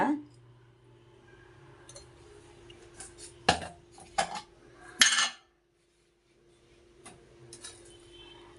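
A spoon clinks and scrapes against a bowl while chili powder, turmeric and salt are mixed for fish curry, with sharp intermittent taps and clatters, a low steady hum, and a brief silent gap near the end.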